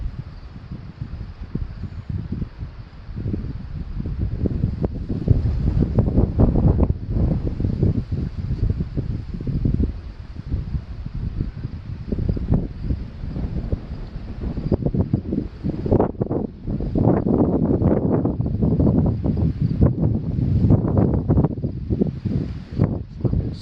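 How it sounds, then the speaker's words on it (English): Gusting wind in a storm in Howard County, Iowa buffets the microphone with loud, uneven rumbling surges that ease and then build again, with no voices. "Some more wind. We're picking up wind again."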